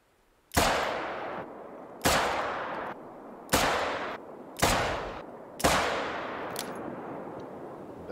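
Five loud gunshots from a .44 Panther Magnum revolver in the hunting game theHunter: Call of the Wild, fired at a shooting range, spaced one to one and a half seconds apart, each a sharp boom with a long echoing tail.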